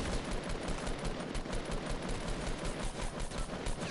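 Sustained video game gunfire crackles through the whole stretch, dense rapid bursts like automatic weapons, loud and continuous with no talking.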